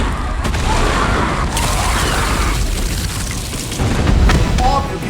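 A gigantic explosion from The Walking Dead, as a fuel-loaded blast turns a town square full of zombies into a fiery crater: a dense, sustained booming roar with rumbling low end and crackling bursts, swelling again near the end.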